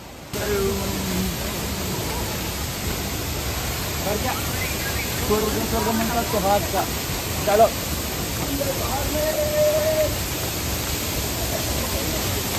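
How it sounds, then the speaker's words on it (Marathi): A waterfall at Raigad fort roars as a steady, dense wash of rushing water, loud and close throughout, with voices talking faintly beneath it. "बघू शकता किती जोरात असा धबधबा पडत आहे."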